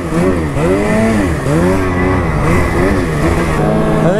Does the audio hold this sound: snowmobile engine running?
yes